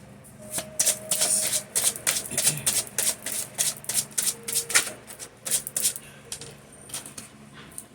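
A deck of gold foil energy oracle cards being shuffled by hand, producing a steady run of crisp, papery riffles and slaps in repeated bursts, close up and loud, with no talking.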